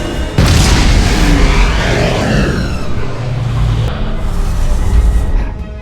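A grenade blast from a movie scene (X-Men: First Class, 2011): a sudden loud boom erupts after a brief pause and rolls on as a sustained heavy rumble with debris-like roar for several seconds, dense and close.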